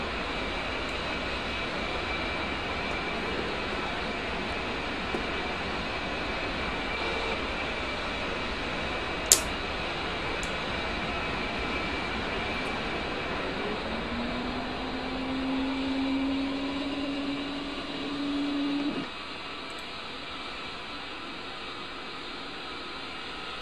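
The left engine of a combat jet in the DCS World flight simulator spools up, a steady aircraft turbine whine and roar with a rising tone that builds then cuts off, heard alone without talk.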